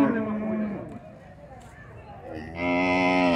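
A dairy cow at a traditional cattle fair gives a long, loud low moo that tails off, then another swelling moo. Voices talk around the animal before the calls.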